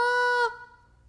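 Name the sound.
goose call blown by a caller, imitating goose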